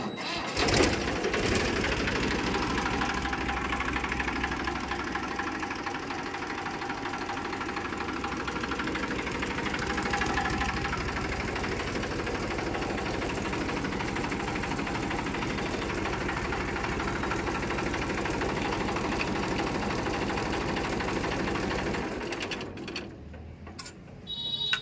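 Massey Ferguson 1035 DI tractor diesel engine cranks on the self-starter, then idles with a steady loud knocking rumble close by for about twenty seconds before it cuts out near the end.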